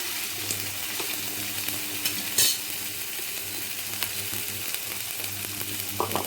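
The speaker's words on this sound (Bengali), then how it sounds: "একটু নাড়াচাড়া করে এটাকে একটু ভাজা করে নিতে হবে" Food sizzles steadily in a hot pan while it is stirred and fried, with a soft continuous hiss broken by occasional scraping clinks of the spatula.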